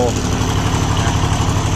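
An old Japanese three-cylinder diesel engine on a welding generator runs steadily close by, a low, even chugging drone with a brief voice at the start.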